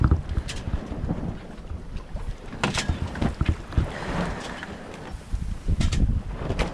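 Wind gusting over a 28 ft sailboat alone at sea in trade winds, a loud continuous rush with buffeting microphone noise and sloshing water, swelling and easing in uneven waves throughout.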